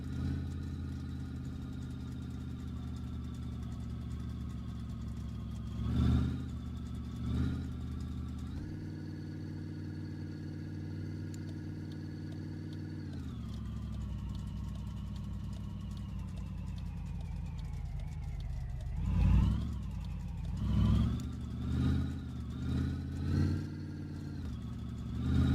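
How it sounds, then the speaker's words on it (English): A car engine in the game My Garage, running rough with a failed exhaust manifold, drones steadily at idle throughout, with several short revs and louder bursts near the end; no talking. "My exhaust manifold just went bad."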